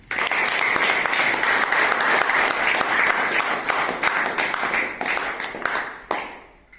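Loud, dense applause from an audience at a welcome and honouring event, sustained for about six seconds before fading out quickly.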